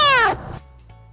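A cat gives one close, loud, drawn-out meow with a rising then falling tone, followed by a softer trailing call and quiet room noise.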